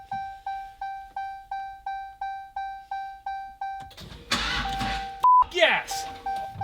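A Dodge Demon converted to a manual transmission chimes with a steady rhythm of warning beeps, then its engine cranks and fires up with a burst of noise as excited voices react.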